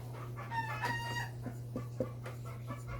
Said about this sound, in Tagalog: Mga itong manok brad.